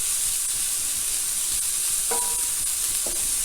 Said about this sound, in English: All you want to do here now is to sweat, in other words, cooking the onion and drawing out the natural sugars within the onions